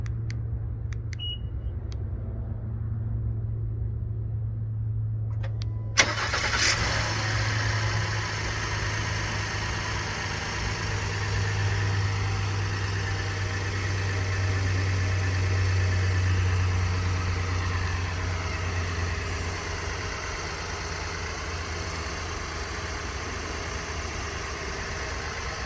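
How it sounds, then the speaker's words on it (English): A car engine cranks with a sharp click and catches after several seconds of near silence, then settles into a steady low idle hum with faint vibration that continues evenly to the end. "Let's go ahead and start up the vehicle."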